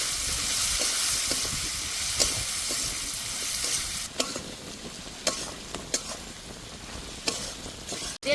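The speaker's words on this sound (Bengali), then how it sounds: "এবার ভালো করে কষে নেবেন।" Taro (kochur mukhi) with spices being stir-fried in a pan for a dish with bhola fish, a steady close sizzle with scraping spatula strokes and sharper clatters in the second half, no talking.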